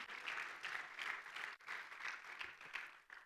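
A church congregation claps for the Lord during a sermon, dense rhythmic handclaps pulsing in waves with a short break midway, steady and moderately loud without talk.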